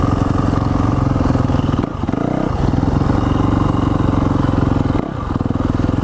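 A Yamaha motorcycle ridden by a child drones loudly and steadily nearby, its engine note dipping and shifting briefly twice as it changes speed or gear.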